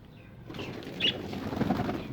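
Pigeons flap their wings as they are released outdoors, giving a brief, fairly close flurry of wingbeats over a soft background.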